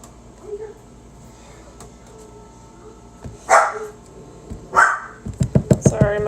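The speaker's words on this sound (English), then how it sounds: "dog is barking at the TV." A dog indoors barks at a television, first a few scattered sharp barks and then a quick burst of rapid yaps near the end, over a quiet room hum, with a person speaking faintly at times.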